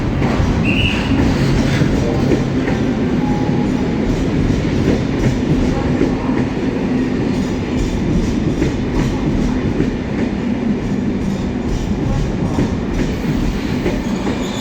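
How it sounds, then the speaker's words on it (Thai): A train rumbling and clattering steadily into a station platform in France, the low roar continuous and loud, with faint squeals from the wheels. "รถไฟมาแล้วนะครับ"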